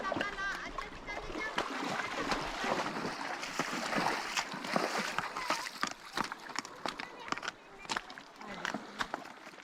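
Horses wade and splash through a river during a summer riding course, with uneven bursts of water churning and slapping nearby as children's and adults' voices chatter over the top.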